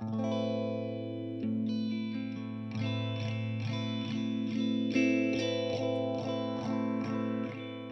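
Sustained electric guitar chords with a slow sweeping phaser and strong resonant feedback, tone rising and falling over repeated strums.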